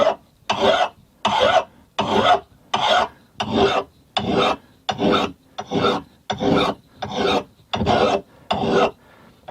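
An old Plumb axe head being sharpened with a file: about a dozen steady, evenly spaced rasping strokes, close and loud, with brief pauses between each pass and no talking.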